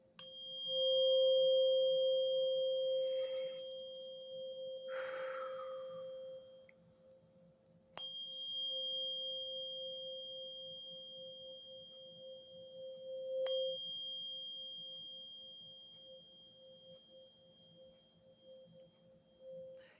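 A steady, pure 528 Hz solfeggio sine tone hums on and on at moderate level, with a few faint clicks and brief soft noises breaking in around it.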